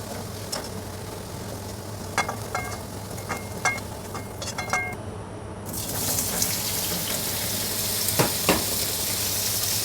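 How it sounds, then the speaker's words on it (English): Paneer fries in a karai with a steady, close sizzle that swells sharply partway through into a loud, dense crackle, with a few utensil clinks scattered across the first half. "Carefully I fry the paneer."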